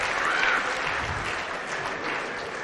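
Spectators at a 9-ball billiards match applaud a banked shot, a dense, steady patter of clapping that fills the whole moment, with a commentator's voice faintly underneath.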